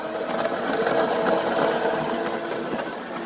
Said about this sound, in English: Grinding the coffee beans.